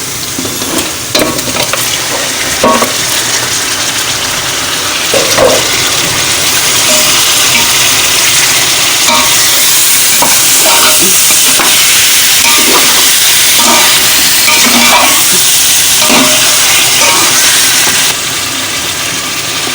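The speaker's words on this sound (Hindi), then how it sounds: "अब मैं इसके अंदर गोश्त डाल रही हूँ" Bone-in beef dropped into a hot pot for beef yakhni pulao, frying with a loud, steady hiss and sizzle that swells and holds, with scattered stirring knocks near the start.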